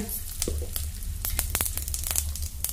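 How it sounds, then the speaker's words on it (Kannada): Mustard seeds and cumin sizzle and crackle in hot oil for a carrot palya, with steady close frying and sharp popping spatters throughout. "ಈಗ ಸಾಸಿವೆ ಅರ್ಧ ಸ್ಪೂನ್ ಹಾಕ್ತೇನೆ, ಜೀರಿಗೆ ಅರ್ಧ ಸ್ಪೂನ್ ಹಾಕ್ತೇನೆ"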